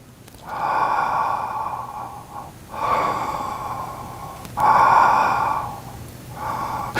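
Slow, deep breathing, audible inhales and exhales alternating in a steady rhythm, close and fairly loud, with no talking.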